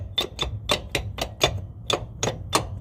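A loose U-joint assembly on a 2006 Nissan Titan drive shaft clanks in a quick series of sharp metallic knocks, about nine distinct close taps in under three seconds.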